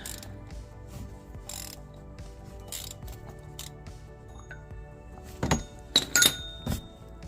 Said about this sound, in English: I'm going to use my oil filter socket here, and we will break this free.